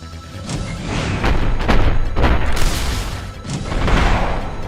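Rockets slam into rocks in the retro shooter game I, AI, producing a series of loud, rumbling booms that overlap one another, with no voices over them.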